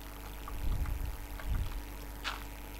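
Water flowing and draining away in the Minecraft video game, a soft low rushing that swells twice, near and moderately quiet, with a brief brighter splash near the end and no talk.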